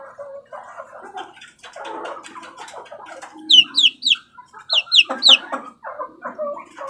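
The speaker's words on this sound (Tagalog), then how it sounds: "Yung sisiw na yan." A small chick peeps in bright, rapid clusters of short chirps, close and fairly loud, bursting out in two quick series near the end over softer rustling and low clucking-like sounds earlier.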